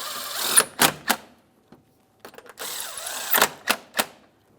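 Long 10mm-headed mounting bolts are snugged down on the air inlet tube of a 2014-2018 Mazda 3. Close, bright ratcheting clicks come in several short bursts with brief pauses, with no talking.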